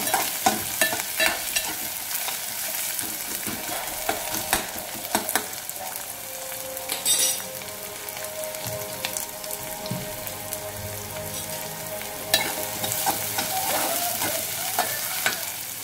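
Onion frying and sizzling in a pan, stirred steadily with a utensil, with clinks and scrapes against the pan over a continuous close sizzle, no talking.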